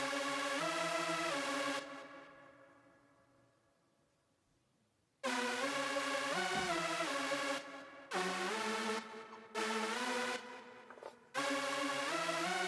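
A bright, buzzy V Lead synth preset from the Gladiator plugin, played in a hip hop beat made in FL Studio: a loud sustained chord that fades out, then a run of held notes broken by short gaps.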